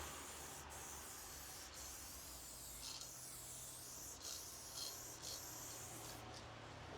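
A spray paint can hisses steadily while graffiti goes onto a wall, a continuous faint airy spray with slight shifts in intensity and brief breaks, heard alone over low background hum.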